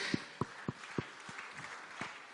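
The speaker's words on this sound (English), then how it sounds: "Give her a big round of applause." A handful of sparse, separate hand claps from an audience at a 2017 retail leadership summit, welcoming Accenture's managing director to the stage: quiet, distant and irregular rather than a full round of applause.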